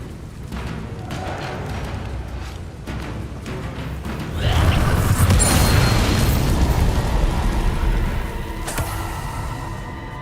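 Bombarda spell explosion in Hogwarts Legacy, a loud booming blast that swells midway and rumbles for several seconds over a steady background of game sound, with a sharp crack near the end.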